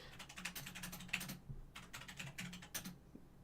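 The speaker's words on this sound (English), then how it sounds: "Tech support in the corner, furiously typing away." Computer keyboard typing, fast and close, with bursts of quick key clicks separated by short pauses, heard alone without talk.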